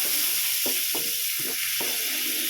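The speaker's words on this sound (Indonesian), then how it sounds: "Aduk-aduk ratakan." Chicken pieces frying in butter in a pan, a steady sizzle running throughout with several short scraping knocks as the contents are stirred around.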